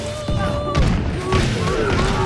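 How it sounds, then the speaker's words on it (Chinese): Gunfire and fire bomb explosions in a pirate battle of a war simulator game, a dense loud barrage of booms and thuds layered with game effects and music. "宙斯根本顶不住我的枪和雷火弹"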